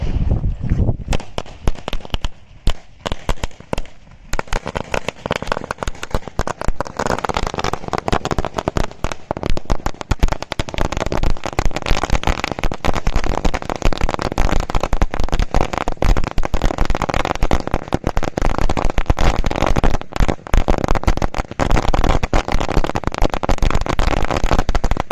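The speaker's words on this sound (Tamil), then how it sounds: "இப்போ நம்ம நெருப்பு வச்சா நம்ம பட்டாசு வெடிக்கிறது மட்டும் தான் வேலை" Two firecracker strings joined together burst for Diwali in a dense, continuous, loud rapid crackle of bangs that runs without pause for the whole stretch, with only faint voices beneath.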